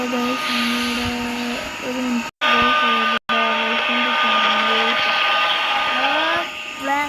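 A vacuum cleaner whines loudly and steadily nearby, its pitch shifting as it moves, cutting out briefly twice.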